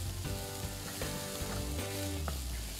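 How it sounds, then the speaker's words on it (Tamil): Carrot, beans and peas sauté on a high flame for vegetable cutlets, giving a steady, close sizzle with occasional stirring clicks from the pan, no voices. "இது எல்லாத்தையும் ஆட் பண்ணிவிட்டு இது வந்து ஒரு ஹை ஃப்ளேமில் நம்ம இப்போது ஒரு நிமிஷத்துக்கு வதக்கலாம்."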